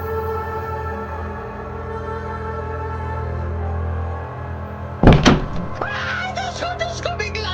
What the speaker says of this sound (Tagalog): Nang bigla namang bumukas, nang napakalakas ang pinto.